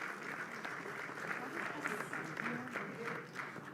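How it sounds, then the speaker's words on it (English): Audience applause for a Deputy Minister at a live Bafana Bafana football event, faint, distant, steady clapping with crowd murmur and some voices under it. "can we give the Deputy Minister a hand of applause?"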